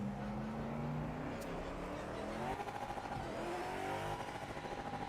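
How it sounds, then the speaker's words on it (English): Race car engine in Project Motor Racing bouncing off the rev limiter, a steady buzzing drone with rhythmic stuttering pulses in the second half, heard alone without talk. "I don't like the engine revving on the RPM limiter"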